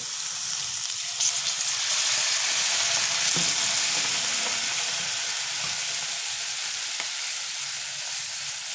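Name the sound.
water added to onion paste frying in pan, sizzling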